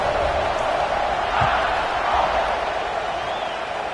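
A large football stadium crowd at an Auburn versus Alabama game roars in a sustained, broad wash of cheering just before kickoff, while a voice speaks over the noise.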